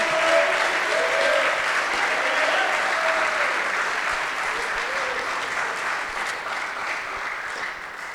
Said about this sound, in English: help me give a round of applause for Leah Sylvain and Coltrane McGonigal